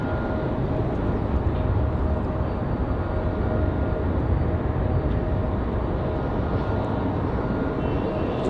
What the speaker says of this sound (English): So 737 up for departure for United Airlines